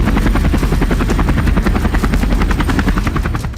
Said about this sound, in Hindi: इसके साथ ही रूस की तरफ से Ka-52 जैसे लड़ाकू हेलीकॉप्टरों को भी एयर शो में रखा गया।